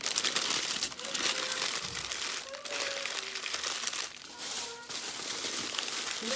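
Steady close crinkling and rustling of wrapping material as portions of grated macabo are wrapped, continuous throughout with small crackles and faint background tones.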